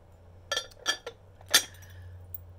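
Milk glass hen-on-nest figurine clinking as it is handled, a few short bright glassy taps, fairly close and alone over a low steady hum.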